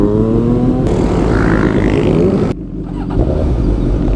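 A Suzuki GSX-S 1000 motorcycle engine runs loud and close, a steady rumbling drone that rises briefly in pitch before dropping off and settling back into a lower, continuous idle-like roar.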